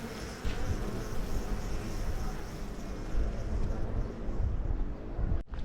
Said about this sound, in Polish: dlatego tyle pszczół tutaj lata